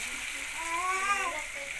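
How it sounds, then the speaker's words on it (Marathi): Water is poured into a pan of fried masala while cooking Maggi masala peas rice, giving a short, close splashing gush that rises and fades over a couple of seconds against a faint background hiss. "मी आता याच्यामध्ये टाकते पाणी"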